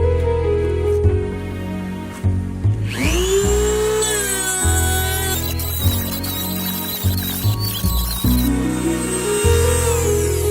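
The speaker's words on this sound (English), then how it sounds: "I'm going back to the Dremel tool." A Dremel rotary tool grinds the edge of a lawn mower blade, a steady high whine with shifting pitch that rises and dips as the bit bears on the metal, continuous and close throughout.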